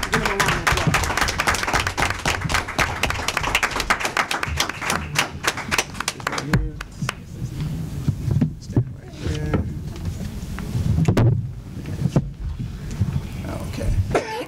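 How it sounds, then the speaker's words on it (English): Round of applause for the Hazelnut Fest royal court at a village board meeting, steady crowd clapping in a room for several seconds that thins into scattered claps and bumps, with voices talking over it. "Give them a round of applause."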